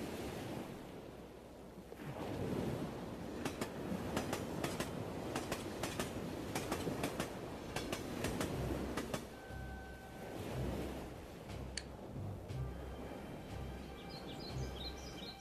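A model railway freight train strains forward as its trucks hold back with brakes on, giving a steady rolling rumble with clanking and squealing wheel sounds, loud and continuous throughout.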